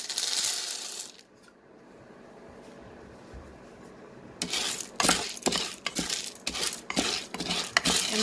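Popcorn kernels are stirred with a spoon in a saucepan, giving a scattered run of close, sharp scraping clicks and rattles, mostly in the second half after a quieter lull.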